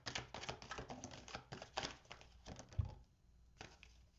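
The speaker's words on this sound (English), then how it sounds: "let me get these cards out." Tarot cards being pulled from their pack and handled, a quick run of dry papery taps and shuffling clicks, close and soft, with one sharper knock near the end before the rustling thins out.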